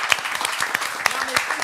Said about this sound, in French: On t'applaudit, Wendy.